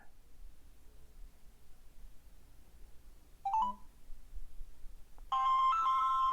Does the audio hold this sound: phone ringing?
yes